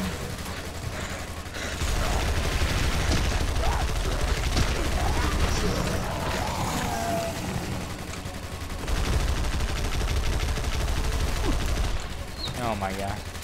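A submachine gun in a shooter video game fires in long, dense, rapid bursts with mechanical clatter, a short pause and then another sustained stream of shots, loud and close, over game effects.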